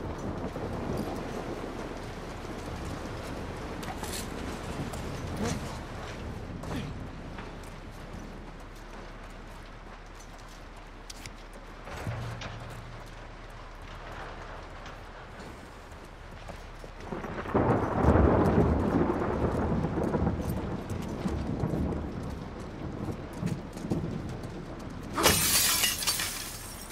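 Thunderstorm with rain in The Last of Us 2, distant rolling thunder over steady rain, swelling into a louder rumble midway and a sharp crack near the end, no talk.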